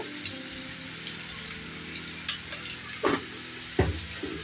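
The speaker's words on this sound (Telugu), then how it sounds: "పచ్చిమిర్చి బాగా ఫ్రై అయ్యేదాకా ఫ్రై చేయాలి" Green chillies fry in oil for lemon rice, a soft steady sizzle with faint crackles and a few louder stirring scrapes near the end.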